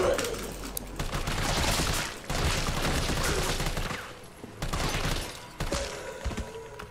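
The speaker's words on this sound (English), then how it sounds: "Am I panic shooting?" Panic shooting in the video game Resident Evil 3 Remake, with bursts of rapid gunfire in several clusters separated by short pauses and a player's voice talking over parts of it.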